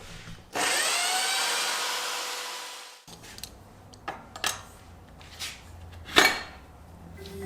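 A power tool whines loudly for a few seconds while removing a baffle from a BMW GS motorcycle exhaust, then stops, followed by scattered scraping, clinks and knocks of hand work.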